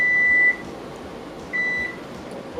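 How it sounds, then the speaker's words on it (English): Kitchen timer beeping in two separate sustained electronic tones, the first about half a second long, the second a second later, both clear and steady over a faint room hiss. "That's the timer."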